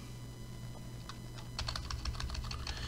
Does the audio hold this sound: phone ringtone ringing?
no